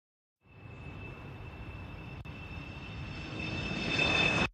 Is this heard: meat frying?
no